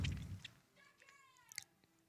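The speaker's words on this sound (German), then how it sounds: "Du schmatzt so laut." A person chewing loudly with an open mouth, wet smacking and crunchy bites close to the microphone, quiet and irregular, with faint squeaky sounds in between.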